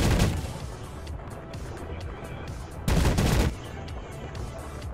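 Top guns firing in the Sea of Craft crafting game with water physics, a loud burst of rapid shots at the start and another sustained burst near the end over a steady rumbling game background.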